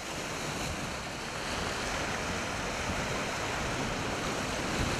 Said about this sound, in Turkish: Küçükçekmece'de dalgalar bir sitenin bahçesine vurdu.